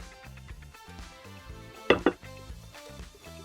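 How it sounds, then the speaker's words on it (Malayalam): Sardines and Malabar tamarind going into a clay cooking pot, with a couple of sharp clattering knocks near the middle against a background of faint tonal music, without talking. "മത്തി ഞാൻ ചട്ടിയിലോട്ട് ഇടുകയാണ്. അതിൻ്റെ കൂടെ പുളി ഇടുന്നു, ചീമപ്പുളി."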